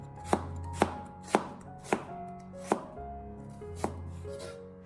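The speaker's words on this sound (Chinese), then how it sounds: "然后再将它改刀切成稍微宽一点点的洋葱丝" A knife slices a small onion into slightly wide strips on a cutting board, seven crisp, evenly spaced chops ringing out close up with no voices.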